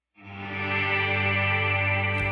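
An electric guitar chord rings out through a fully wet reverb on an HX Stomp, swelling in quickly and sustaining as a dense, smooth wash, loud and alone, with a faint touch at the very end.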